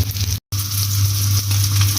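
Pork cutlets fry in a pan with a steady, close sizzle and a constant low hum, broken by a brief silent gap near the start.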